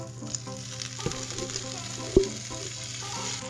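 Shredded potatoes hit a tablespoon of shimmering olive oil in a nonstick pan over medium-high heat, giving a steady close sizzle with a sharp clack partway through and a low hum underneath.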